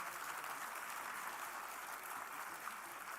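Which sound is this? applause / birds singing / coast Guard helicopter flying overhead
applause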